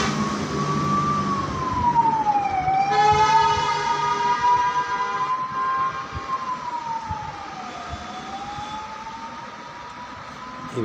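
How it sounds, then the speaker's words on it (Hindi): An emergency vehicle passes on a road with its siren wailing, a loud rising and falling tone that sweeps up and down steadily over about ten seconds and stands clear above a steady rumble of background noise. "सड़क पर ये सायरन बजाती हुई गाड़ी जा रही है"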